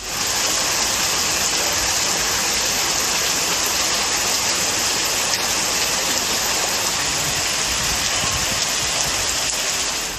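Heavy rain falls steadily with a dense, loud hiss during a thunderstorm with hail, no voices and no clear thunder.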